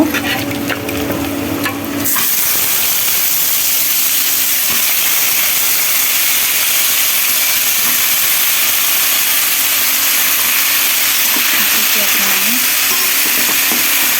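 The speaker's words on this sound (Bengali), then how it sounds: "রসুন, শুকনা মরিচ দিয়ে আমি এখন আমটা দিয়ে দেব।" Mango hits hot oil already tempered with garlic and dried chili, setting off a steady, loud sizzle that holds evenly after a brief clatter at the start.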